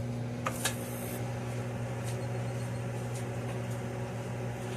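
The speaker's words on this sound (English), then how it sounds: "Set our microwave for 30 seconds." A microwave oven hums steadily with a constant low drone, close and even, with a few faint clicks and rattles near the start.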